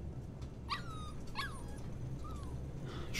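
A puppy in the video game Life is Strange 2 whimpers in two or three high, thin yips, alone over a quiet low background hum.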